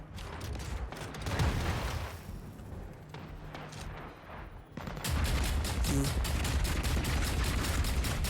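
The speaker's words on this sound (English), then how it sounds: "There's a lot of bullets coming from many places. Like turrets." Gunfire from turrets and mechs in the mech combat video game Hawken Reborn, dense rapid shots and mechanical clatter that swell louder in the second half, with speech faintly underneath.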